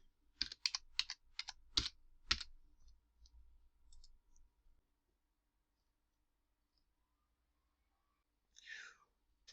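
Fingers type a password on a computer keyboard in quick, close bursts of sharp clicks that trail into scattered taps before falling silent, then a short soft sound near the end.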